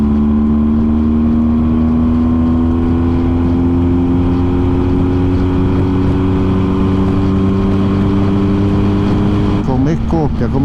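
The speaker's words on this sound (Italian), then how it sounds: "sentiamo il motore." Motorcycle engine labouring uphill against a headwind on a motorway heading south from Maratea into Calabria, a steady loud drone with strong low harmonics rising slowly in pitch, wind rush throughout, shifting briefly near the end.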